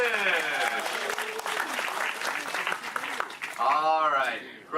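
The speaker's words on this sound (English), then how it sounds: "Round of applause for the Moonfish!" Audience applause at a Walt Disney World show with the Crush character, moderate clapping mixed with voices and cheering throughout, a brief surge near the end.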